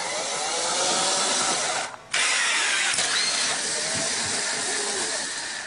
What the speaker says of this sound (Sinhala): බෝල යන්ත්‍රයට දැම්මා මේක මේ බෝල විසිකරන යන්ත්‍රයක් නේද